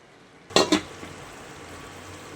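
Chicken fry with masala cooking in a pan, a steady low sizzle broken by a pair of quick stirring scrapes early on and another near the end, with no voices.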